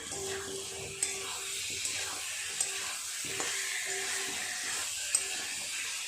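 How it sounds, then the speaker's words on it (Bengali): Fried pointed gourd and potato pieces stirred with spices in a pan, a faint steady sizzle with occasional light spatula taps, quiet and close, no voice. "পটল আলু দিয়ে আরও একটু ভালো করে কষিয়ে দেবো মশলার সাথে"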